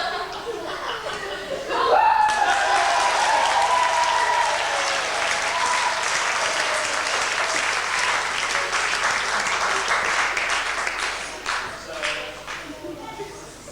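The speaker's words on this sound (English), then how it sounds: "the audience will go absolutely wild with applause" A school audience at an evening magic show bursts into loud applause after a trick, swelling suddenly and holding steady with scattered chuckles and laughter mixed in before thinning toward the end.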